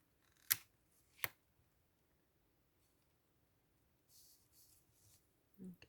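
Scissors cut paper for vintage-style mini envelopes in junk journal crafting: two crisp, close snips in quick succession, followed by faint paper rustling in an otherwise quiet room.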